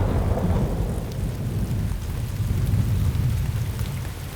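Thunder sound effect from a Dolby surround test plays in the left and right surround channels with the low-frequency channel turned off. It is a continuous deep rolling rumble mixed with steady heavy rain, alone and loud throughout.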